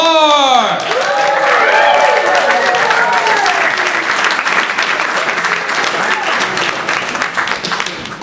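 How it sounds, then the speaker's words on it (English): Loud audience applause for a stand-up comedian at a live comedy show in a balcony venue, a dense, sustained roar of clapping from a close crowd that carries on without a break, with a sweeping tone fading out at the very start. "I want you to all put those hands together right now."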